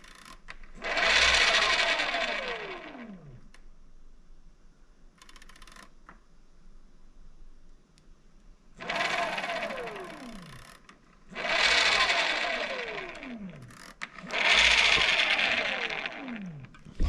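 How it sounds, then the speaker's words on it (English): A BBSHD e-bike motor with a nylon gear spins freely in four separate whirring runs, each starting with a sharp buzz and then coasting down in falling pitch, with a short quieter whir between them. "It sounds like something is spinning freely, like over here, like the nylon."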